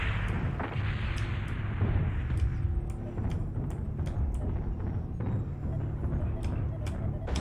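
Incoming missile impacts and explosions in MechWarrior Online land in rapid succession over a dense rumbling battle din, while a synthetic cockpit voice issues warnings.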